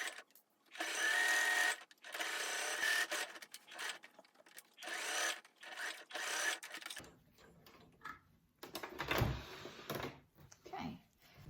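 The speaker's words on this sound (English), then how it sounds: "I'm just going to sew all the way around as close as I can to that piping foot again" Sewing machine fitted with a piping foot stitching around the edge of a cushion with a zip, running in several sustained bursts with short pauses between them, close and fairly loud, then quieter handling rustles toward the end.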